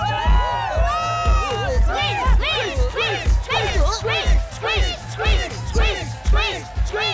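Cartoon crowd of voices shouting together in a rhythmic chant, repeated bursts of loud massed yelling over a steady pounding beat, with high squeaky character sounds at the start.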